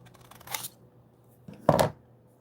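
Paper card stock cut straight across in two with a blade or scissors gives two brief, close swishing snips about a second apart, the second louder, over a quiet background.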